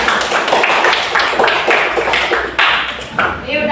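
A classroom of students clapping for a classmate, a burst of close, uneven hand claps that lasts a few seconds, with voices mixed in.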